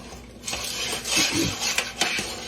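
Caramel cake icing stirred in a pot with a spoon that scrapes and knocks against the sides in quick, close, uneven strokes.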